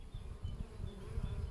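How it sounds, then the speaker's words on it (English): Low, droning buzz of many honey bees swarming close by at a hive, a steady hum that swells and fades slightly, with faint higher whines from individual bees passing. "That could be foreign bees which are interested in the hive, and so they're coming to have a look."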